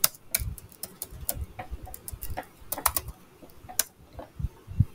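Computer keyboard typing, irregular clusters of sharp clicking keystrokes with a few heavier taps, close and moderately loud with no voices.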